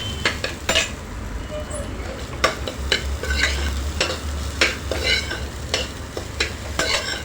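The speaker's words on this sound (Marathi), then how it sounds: "आणि ते छान परतून घेऊया" Food sautés in a pan with a lively sizzle while a utensil stirs it, producing repeated quick scrapes and clinks at an irregular rhythm.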